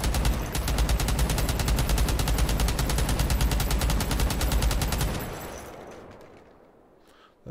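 A shoulder-fired rifle with a box magazine lets off a long, rapid, evenly spaced string of loud close shots for about five seconds, then the echo fades into quiet.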